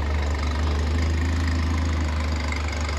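A Fiat X1/9 engine idles steadily after a timing tune-up, with a low, throbbing rumble and a constant mechanical hum, close up and without voices.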